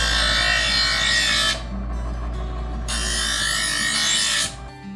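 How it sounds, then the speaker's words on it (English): An electric knife sharpener grinds in two loud, steady bursts of high buzzing, with a quieter, lower hum between them and a brief tail-off at the end. "That electric sharpener you have is absolutely fantastic."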